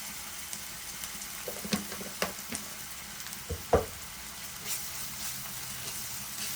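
Quiet sizzle of a mushroom curry base of ginger and garlic frying in a pan, with a few scattered spoon taps and scrapes against the pan rising over a soft, steady hiss.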